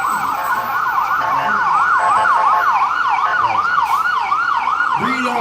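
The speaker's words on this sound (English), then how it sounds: "The Lord's going to take away those sirens." An emergency vehicle siren wails in a fast, regular up-and-down cycle. It is loud and continuous over a background of traffic noise.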